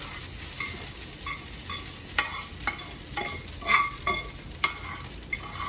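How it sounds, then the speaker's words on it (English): Steady sizzling of dry brown rice in a hot pan over medium heat, with intermittent scraping and clinking of a utensil stirring, close up and without voices. "It's good if it has like that little bit of a sizzle to it"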